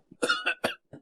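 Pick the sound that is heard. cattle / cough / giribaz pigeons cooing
cough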